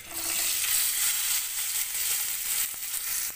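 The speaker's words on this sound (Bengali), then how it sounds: "সিদ্ধ করে রাখা আলুগুলো ভেজে নেব।" Boiled potatoes with salt and turmeric fry in hot oil, producing a constant close sizzle with a few soft crackles throughout.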